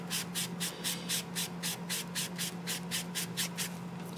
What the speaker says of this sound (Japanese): このメラミンスポンジは、 表面を削って汚れを落とすというですね、そういう 性質のものです